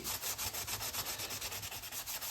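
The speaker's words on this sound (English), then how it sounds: "this combo of WD-40 and quadruple-aught steel will really work the best, is on rims" Rusty chrome rims on a 1967 Triumph T100C are scrubbed with WD-40 and 0000 steel wool, giving close, rapid, rhythmic rasping strokes with no talk.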